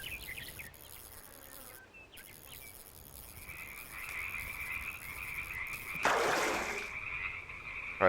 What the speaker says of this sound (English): the frogs croaking